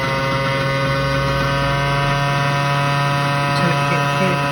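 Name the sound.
CNC machine motor running while milling a box mod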